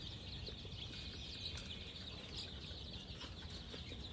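Local chicken chicks on a farm of around three hundred birds, peeping and clucking as a continuous, faint, busy chorus at moderate distance, with no voices.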